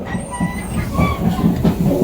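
An economy-class passenger train on the extra Pasar Senen–Lempuyangan service from Jakarta to Yogyakarta runs steadily, with loud rail rumble, rhythmic wheel clatter and faint metallic squeals close by, with no voices.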